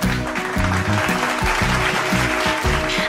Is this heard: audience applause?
yes